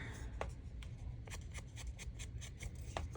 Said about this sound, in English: I am going to ink that just a little bit with some Scorched Timber